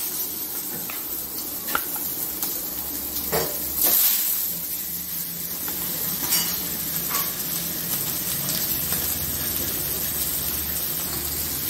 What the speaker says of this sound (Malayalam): ചെറിയ തീയിൽ കുറച്ച് നേരം ഒന്ന് ഫ്രൈ ചെയ്തെടുക്കാം